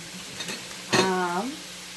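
Chicken for garlic pesto chicken pitas sears in a hot pan with a steady sizzle, broken by a brief scrape of stirring and a short tonal squeak partway through.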